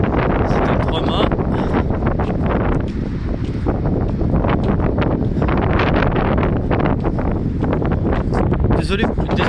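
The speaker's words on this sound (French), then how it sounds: "Désolé si vous entendez le vent." Strong wind buffets the microphone in a constant roar beside the fast-flowing Garonne under the Mistral, near a three-masted sailing ship, with a person talking underneath.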